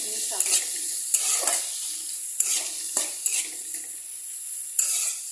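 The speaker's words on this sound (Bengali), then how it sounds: "আমি এটাকে ভালো করে একসাথে মিশাবো।" A spoon stirs a lightly sweetened singara filling mixture in a pan over low heat, with repeated scraping strokes against a soft sizzle, close and clear.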